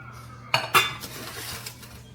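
Stainless steel pots clatter as one is pulled from a pantry shelf: two sharp metallic clanks close together, then a lighter rattle of cookware settling.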